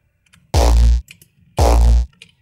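Hardstyle kick bass tail played in FL Studio: two loud, identical booming low distorted hits, each about half a second long, separated by a short pause.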